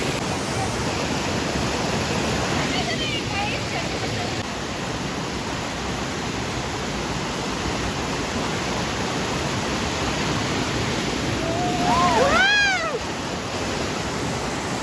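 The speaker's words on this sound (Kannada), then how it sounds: "ನಮ್ದು ಫಾಲ್ಸ್ ನೋಡಿ" A waterfall near Karkala roars as a constant, loud wash of rushing water, with a brief bird chirp cutting through near the end.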